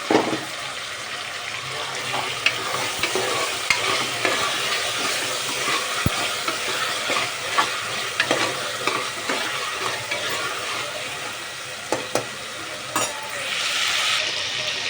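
Green chillies and tomatoes frying in oil for mutton curry, giving a continuous sizzle with scattered stirring clatter and a few sharp knocks, plus a brief watery rush near the end, no talk.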